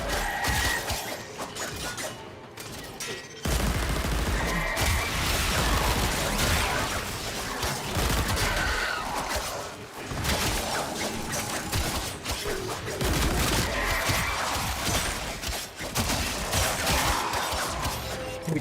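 Rapid, sustained gunfire from the Warframe video game, dense bursts of shots and crashing impacts nearly continuous for the whole stretch with only a brief lull near the start, loud and up front.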